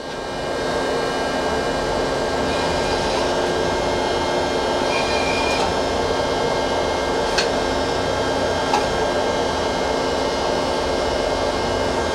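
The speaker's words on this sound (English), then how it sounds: "The sub spindle's gonna move." A Citizen L-20 Type VII Swiss-type CNC lathe runs with its sub spindle in motion, a steady mechanical whir and hum with faint tonal whine and a couple of light clicks, continuous and even throughout.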